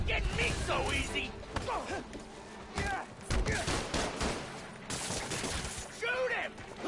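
Rapid gunfire and impacts burst repeatedly in Marvel's Spider-Man: Miles Morales, with bursts of shots and crashes scattered through dense game action while voices speak over the noise.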